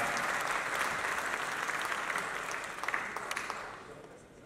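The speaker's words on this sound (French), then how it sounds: "Je vous demande d'applaudir ça." An audience at a film festival awards ceremony in Dakar's grand theatre applauds steadily, a dense wash of clapping with a few sharper claps standing out before it slowly thins toward the end.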